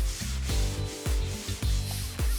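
Dried drywall joint compound being lightly sanded by hand, a close rhythmic series of scratchy back-and-forth strokes, about six in quick succession.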